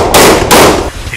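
Two sharp gunshots crack out close and loud during a shooting drill with special operations police, the second following about a third of a second after the first, each leaving a brief ringing tail.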